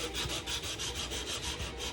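Steady back-and-forth rasping of sandpaper on a wooden Weepinbell fishing lure, quick regular strokes, close and fairly faint with no talk.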